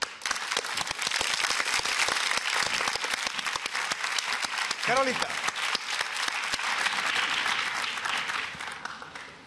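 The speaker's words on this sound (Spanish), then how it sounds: "yo pido un gran aplauso" Studio audience on a Chilean talent show gives a long, loud round of applause for ventriloquist Wilde and his puppet Paquito, dense clapping throughout with a brief voice calling out midway.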